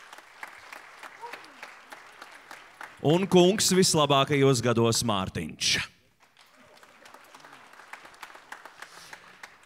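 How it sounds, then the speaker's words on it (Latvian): An audience breaks into loud applause from a crowd for about three seconds, cutting off sharply, with a voice announcing before and after over faint hall murmur. "jau tagad varam veltīt viņām aplausus"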